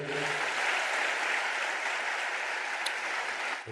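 A church congregation claps loudly during a sermon. The broad, steady wash of applause lasts several seconds, is fairly close and full, and ends abruptly.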